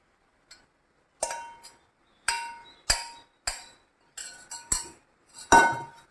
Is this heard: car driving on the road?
no